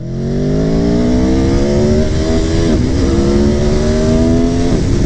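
A 2020 V4 motorcycle engine revs hard up through the gears, a loud, close, rising snarl with brief dips at each shift before climbing again.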